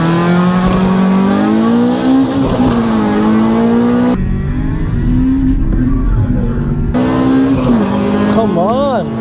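A 230 bhp Audi Q3 TFSI and a 200 bhp EP3 Civic Type R race. Loud, close engine drone climbs in pitch through repeated gear changes, with brief cuts and a final revving warble.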